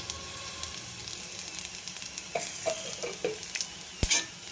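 Chana dal and urad dal sizzle in hot oil as a tempering for a beetroot garlic curry, giving a steady close crackle with a few stirring scrapes and a sharp utensil knock near the end.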